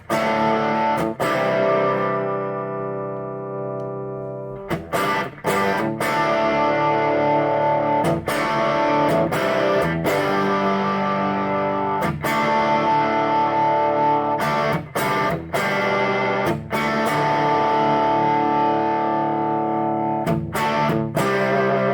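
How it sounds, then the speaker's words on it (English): An electric guitar plays heavily distorted chords through a Burman Pro 501 hand-wired 1x12 boutique combo amplifier, with sustained crunchy chords broken by short, sharp pick attacks and chord changes, loud and close, without talk. "probably around JCM 800 level of distortion there."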